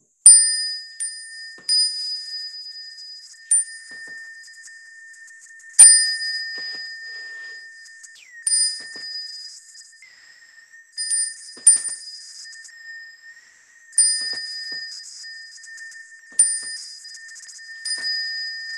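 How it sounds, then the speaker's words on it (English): A Buddhist temple bell rings repeatedly in a bow ceremony before the Buddhas, clear bright metallic strikes at irregular intervals, each ringing out and decaying with a sustained tone, close and alone with no talk. "I'll ring the bell, make three half bows."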